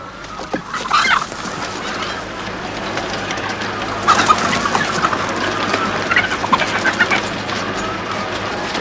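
Hens clucking and squawking in a rural farmyard, a lively cluster of calls near the start and more bursts of clucking later, moderately close over steady background noise, with no talk.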